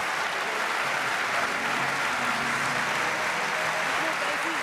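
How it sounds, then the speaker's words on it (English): A crowd at the 2015 UCI Track Cycling World Championships in St Quentin-en-Yvelines applauds steadily for a Russian rider, a dense, even wash of clapping that fills the whole stretch with no letup. "So the Russian rider is greeted by the crowd."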